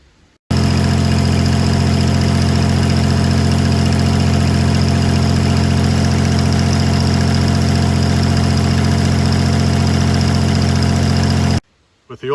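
A Kubota L2550 tractor engine idles loudly and steadily close by, a constant low rumble with a fine rapid knock, running alone after a replaced oil pressure sensor, then cuts off abruptly.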